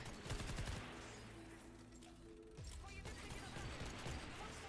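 Rapid gunfire in a video game, bursts of quick shots with mechanical clanking, fairly faint and continuous across the clip.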